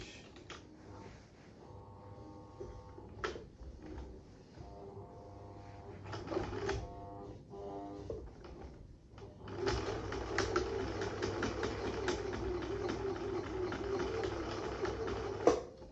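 A Husqvarna 6440 sewing machine stitches a long straight seam through six layers of fabric, its motor whirring in short bursts before settling into a steady, continuous run up close.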